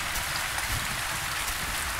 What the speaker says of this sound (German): ich finde, das ist gerade sehr laut mit dem Regen